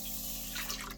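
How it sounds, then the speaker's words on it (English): Water poured from a tap into a cooking pot, about 600 grams measured out before rice goes in, a short close splashing stream that swells and bubbles for around a second. "600 grams of water into here"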